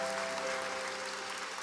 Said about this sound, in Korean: 다시 한번 박수 주시겠어요?